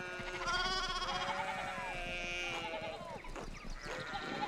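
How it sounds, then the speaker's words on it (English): Sheep bleating in a village in the video game Pentiment, several long wavering calls overlapping close by against a soft ambient background. "The ideal village situation. Sheep fucking everywhere."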